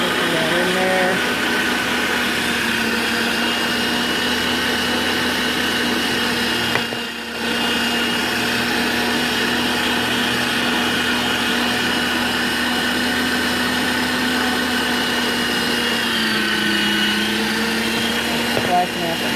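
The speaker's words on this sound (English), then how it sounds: "So let me get this turned on and start grinding." Electric grinder chopping cucumber and charred red onion for relish, a loud steady motor whine running nearly nonstop with a brief dip midway.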